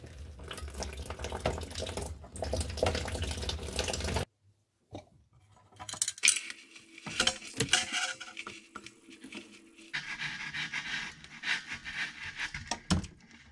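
Water drains out of an Ariston Lydos Hybrid water heater during maintenance, a steady splashing, gushing flow that cuts off briefly, then resumes in uneven bursts with metallic clinks and handling noises close by.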